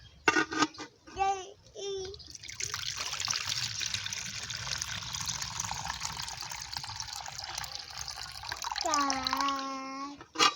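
Banana flower tea pours from a container into a cup in an African village kitchen, a steady trickling stream lasting several seconds, with a voice speaking briefly before and after the pour.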